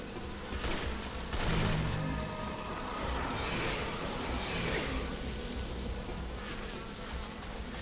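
Swarm of bees droning continuously in Resident Evil 6 gameplay, a dense steady buzz with faint rain-like crackle running through the whole stretch.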